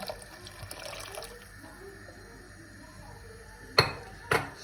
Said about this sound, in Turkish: Biraz daha su ekleyebiliriz.